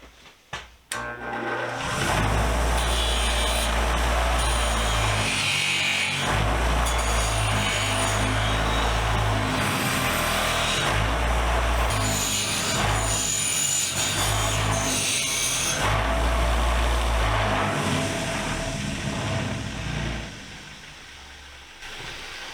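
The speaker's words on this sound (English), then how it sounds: "So let's go see what we can do with the wire wheel." A wire wheel grinding paint off a vintage daisy sprinkler, a loud continuous motor whine with harsh abrasive scraping that surges and eases as the part is pressed, running close for about twenty seconds before stopping.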